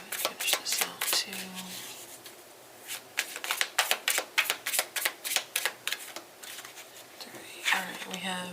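Tarot cards shuffled by hand in repeated bursts of crisp riffling clicks, close and fairly quiet, with pauses between shuffles and a voice talking briefly in the gaps.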